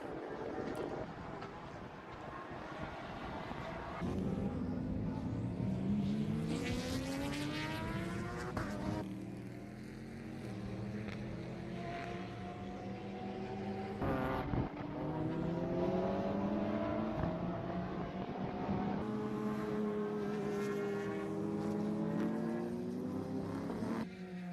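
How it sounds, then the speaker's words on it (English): Race cars lapping the Miami Grand Prix circuit, their engines whining past one after another in long rising and falling tones, a steady overlapping drone from several cars at a distance with a faint voice now and then. "It's a lot of cars working their way around the track now."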